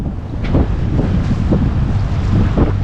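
Steady mistral wind buffeting the microphone on a sailboat, a continuous low rumble with gusty swells, alongside water and waves lapping nearby.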